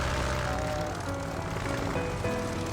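A propeller airplane engine drones loud and steady as the aircraft takes off, a continuous roar with a faint tonal hum and no voices over it.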